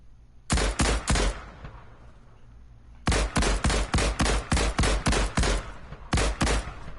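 Fortnite weapons firing in rapid bursts: sharp, loud shots in quick rhythmic strings, a short volley of three or four, a pause, then a longer run of about eight, a gap, and another short burst.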